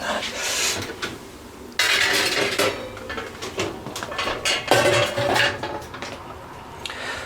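Steak pie being taken out of an oven: clattering metal trays and dishes, a few sharp knocks and scrapes of cookware close by, irregular and moderately loud.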